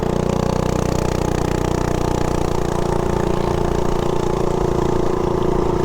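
A Harley-Davidson Softail motorcycle idling while it warms up, a loud, steady, rumbling engine drone with a constant low throb that stays even throughout, close and alone.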